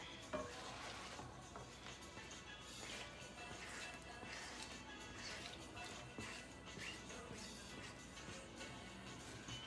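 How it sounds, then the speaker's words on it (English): Potatoes and vegetables cooking in a pot of African stew, with a steady busy bed of stirring, simmering and faint utensil clatter throughout, fairly close and continuous. "add in the potatoes and the veggies and let it cook for another about 5 or so minutes"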